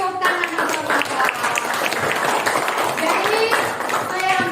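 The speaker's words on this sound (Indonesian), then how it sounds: "Oke, tepuk tangan Bapak-bapak." Audience applause from a group of men at a classroom partnership session on deep learning, a dense continuous patter of clapping that stays loud and even throughout, with voices mixed in.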